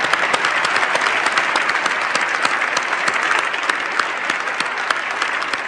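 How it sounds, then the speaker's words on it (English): A crowd at a human rights award ceremony claps in sustained, even applause, dense and fairly loud, with no break across the nearly six seconds. "Would you be willing to join me in clapping you?"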